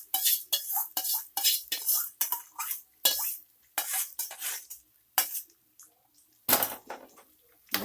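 Khara pongal is mixed in a pot with a metal spoon, producing a close, repeated series of scraping clinks and soft squelches in an irregular stirring rhythm, with no voices.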